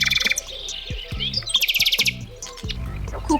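A nightingale sings close by in a bright, clear voice, delivering rapid repeated chirps and trilled phrases with short gaps, while a deeper pulsing call sounds underneath at intervals.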